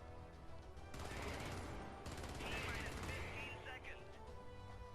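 A deployed sentry turret in Helldivers fires sustained rapid bursts of gunfire with game effects layered over it, dense and continuous for several seconds.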